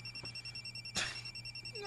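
A telephone rings with an incoming call, a faint, steady electronic ring under a low hum, with one louder burst near the middle and no talk.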